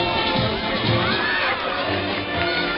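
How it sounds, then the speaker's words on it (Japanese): A crowd cheers and shouts at a relay race final during a community health day sports event, with a steady, dense roar of voices filling the whole stretch. "各支部の皆さん声援をお願いいたします。"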